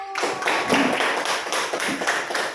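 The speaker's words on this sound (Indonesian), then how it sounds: "Berikan tepuk tangan untuk kelompok 1" Students in a classroom applaud a group with dense, continuous close clapping in loose rhythmic pulses, with no talking over it.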